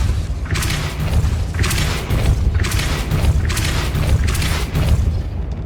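A Depulso force spell is cast repeatedly in Hogwarts Legacy, producing five loud, booming blasts at roughly even intervals over a constant low rumble, with no talking.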